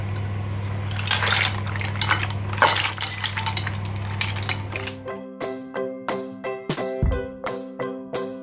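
Cooked mussels tipped into a metal pot for spaghetti, first a busy clatter of shells, then a series of about eight evenly spaced ringing metallic clinks, close and clear with no talking.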